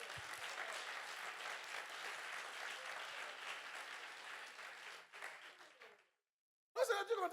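A church congregation applauds to acclaim the Lord with a steady, dense wash of clapping for about five seconds. It then fades and cuts to brief silence before a loud burst of sound returns at the end.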